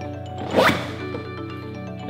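A zipper pulled shut on a John Deere Gator high-performance bucket seat cover, one quick close zip rising in pitch over about a quarter second, near and crisp against a quiet room.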